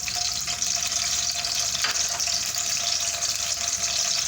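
Onion sizzling in hot oil in a pan for tomato soup, a steady, even hiss and crackle that holds at one level throughout, with no talking.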